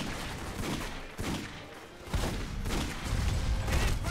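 Gunfire in The Godfather video game: loud, dense bursts of shots in repeated volleys over a constant noisy backdrop.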